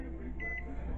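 A kitchen timer gives two short, clear electronic beeps while being set during mac and cheese preparation, with steady low kitchen noise underneath.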